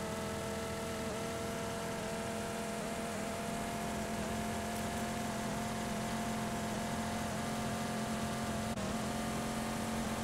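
A car in PUBG drives along with a steady, droning engine hum that holds at a constant pitch, continuous and moderately loud with no other sounds on top.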